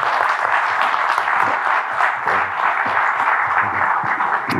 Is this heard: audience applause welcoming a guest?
yes